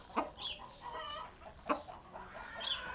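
Chickens cluck nearby in short, scattered bursts, with a few sharper calls standing out over quiet outdoor ambience.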